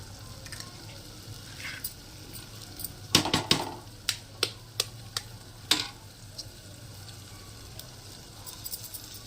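Eggs fry in a pan for a curry egg fry, giving a low, steady sizzle with a series of sharp taps and clicks clustered in the middle, and no talking.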